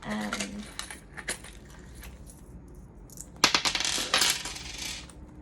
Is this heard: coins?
yes